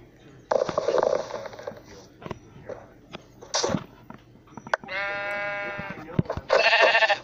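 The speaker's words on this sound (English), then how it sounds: "Quit killing the poor sheep." Sheep bleating in the video game Minecraft, a few short nasal bleats scattered among clicks and game effects, fairly close and clear, with no talk over them.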